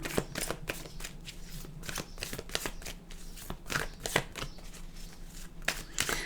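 Tarot cards being shuffled close up, a steady run of crisp riffling slaps and flutters with short pauses between bursts, no voices.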